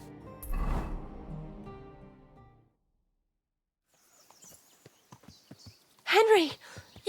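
Hooves of a ridden horse in Kingdom Come: Deliverance 2 clop in a steady walking rhythm, fairly close, after a voice speaks at the start, with a brief louder vocal sound near the end.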